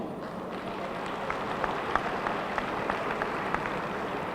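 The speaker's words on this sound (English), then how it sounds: "I'm glad all of you are clapping" Steady applause from a large spring commencement audience at a graduation ceremony, heard as a dense, even wash of distant clapping with a few sharper individual claps standing out.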